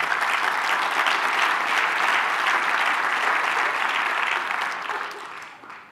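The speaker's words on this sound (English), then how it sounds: "So let's give them applause again." Sustained applause from a large audience at a port authority's annual address, steady and dense for about five seconds before beginning to taper off at the end.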